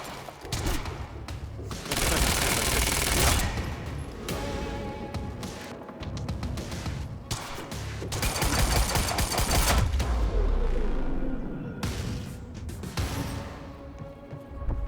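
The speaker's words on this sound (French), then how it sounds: "Le monarque nous tire dessus." Sustained enemy gunfire from Monarch soldiers in the video game Quantum Break, loud rapid automatic bursts and fusillades rolling almost continuously through the whole stretch with heavy thuds underneath.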